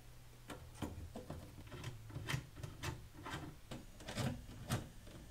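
Cables are pushed and dry fitted into a Growatt inverter, giving quiet scraping, rubbing and clicking contacts in an irregular run of small knocks over low background hum.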